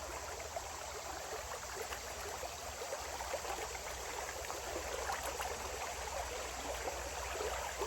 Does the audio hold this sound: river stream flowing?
yes